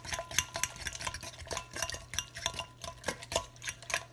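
A utensil stirs egg and pure vanilla extract together in a bowl, making quick, rhythmic clinks and scrapes against the sides, close and steady with no talking.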